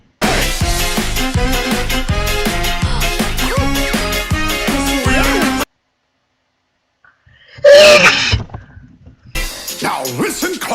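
A girl sneezes once sharply and loudly after a stretch of busy upbeat music and a brief silence, then the music resumes.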